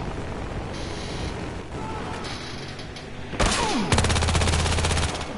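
Rapid gunfire in the video game Battlefield Hardline crackles in quick bursts over background game noise, then turns into a sustained, louder stream of shots near the end.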